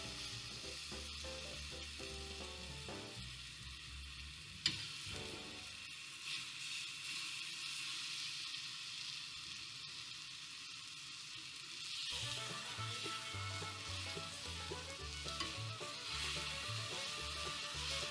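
Sliced bananas sizzle and fry steadily in a hot pan for bananas Foster, a continuous close crackle with occasional stirring clinks from a fork and spoon, no voices.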